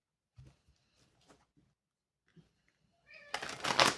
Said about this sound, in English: Meow, are you okay?